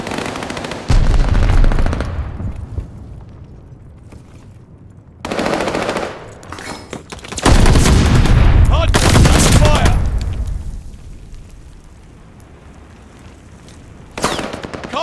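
Call of Duty: Vanguard gunfire in a hardpoint match: loud bursts of automatic machine-gun fire in several long volleys, separated by quieter stretches of distant shooting and announcer-style game voice lines.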